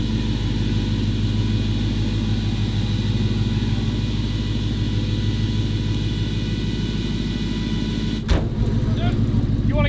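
Ford Coyote V8 swapped into a 1950s Ford truck idles smoothly with a steady, loud low rumble heard from inside the cab, and a brief clunk sounds near the end.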